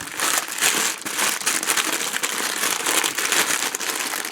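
Paper wrapping around a big double chicken burger delivered at night crinkles and crumples loudly up close as it is torn open, a continuous rustling burst with no talking.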